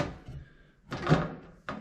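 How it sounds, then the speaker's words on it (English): The access door of a Furrion on-demand water heater comes off, giving a soft scrape followed by two close, sharp plastic clunks and thumps in a quiet room. "I'm going to take the door off"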